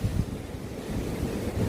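Surf rolls steadily onto Dreamland Beach near Uluwatu in southern Bali, a low continuous wash of breaking waves mixed with gusty wind buffeting the microphone, with no voices.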